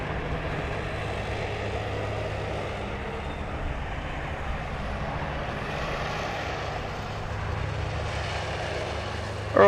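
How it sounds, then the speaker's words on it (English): A Jetstar Airbus A320 arriving from the Gold Coast lands at Sydney Airport, a soft, steady distant engine drone and rollout rumble that stays fairly faint and even throughout. "we've got Jetstar 405 arriving from the Gold Coast. It's an A320."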